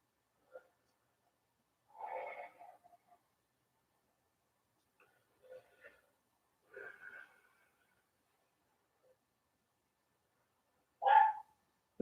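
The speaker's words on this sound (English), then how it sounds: "Hey, the dog bark." A dog barks a few isolated times at irregular gaps, somewhat distant and fairly faint, in an otherwise quiet room during a home yoga session.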